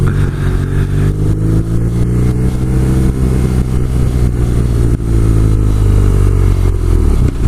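BMW R Nine T Cafe Racer boxer engine running on a first ride, a loud, continuous low rumble that builds slightly as the motorcycle accelerates, close and steady with no voices.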